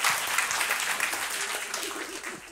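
An audience at a stand-up comedy show claps steadily and fairly close, a dense burst of applause lasting a couple of seconds with faint voices underneath.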